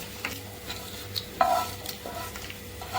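Prawn curry ingredients are sautéed to golden brown in a pan, with a soft continuous sizzle under intermittent stirring scrapes and a brief louder clatter partway through; no talking.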